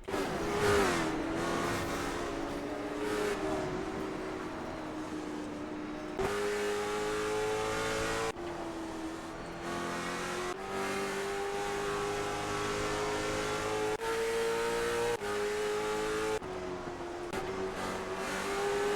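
Stock race cars from the CARS Tour in iRacing roar around the Five Flags oval, engines droning and shifting pitch as they accelerate and pass, loud and continuous for the whole stretch with no talk.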